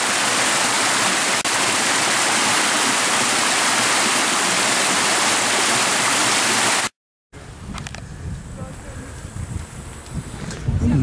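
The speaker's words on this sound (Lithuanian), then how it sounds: "Tai toks krioklys milžiniškas" A huge waterfall near the Merkinė hillfort roars as a dense, loud, continuous rush of water, cut by a brief silence and followed by quieter, wind-buffeted outdoor sound.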